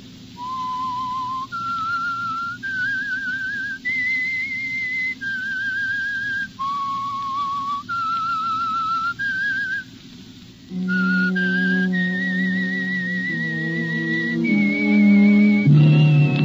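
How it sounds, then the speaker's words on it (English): A clear, close whistled tune from the opening theme of the 1946 radio mystery drama The Whistler, a slow phrase of sustained notes rising and falling, then a louder held melody over low orchestral accompaniment. "That whistle."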